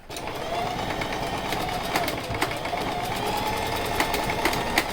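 Sewing machine stitching the edge of a surgical mask, running in a steady fast whirring hum with rapid needle clatter throughout, close and loud, a faint voice underneath.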